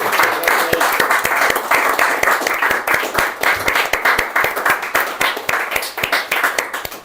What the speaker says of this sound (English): I think a round of applause for that.